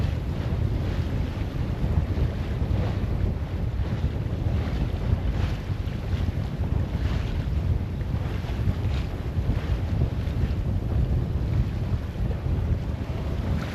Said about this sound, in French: on voit que le vent s'est levé